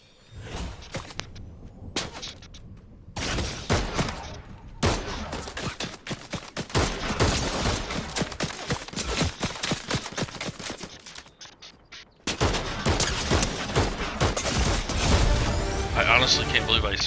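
Fortnite gunfire crackles in dense bursts and rapid volleys, with whooshes and sharp impacts mixed in, while a voice talks over the action throughout.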